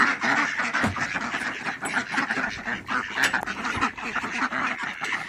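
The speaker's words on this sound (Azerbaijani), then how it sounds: "bunlar da mənim ördəklərim" A flock of ducks quacks busily and nearby in a rural village yard, overlapping calls coming in uneven bursts, with a bit of human voice faintly mixed in.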